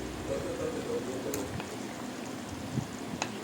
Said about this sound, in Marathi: छान अशी उकळी येऊन आपल्या मटण करीला झालेली आहे